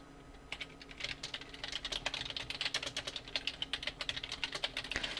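Quiet, close typing on a computer keyboard while working in Photoshop, a steady run of light clicking keystrokes, irregular in rhythm, with no talk.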